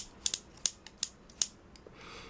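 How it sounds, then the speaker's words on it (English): Sharp plastic clicks and ratchety snaps of a Transformers GT Optimus Prime action figure's tight joints sound in a quick irregular series, about half a dozen, close and quiet with no voices. "It's a very awesome figure, and the joints are tight, as you can hear."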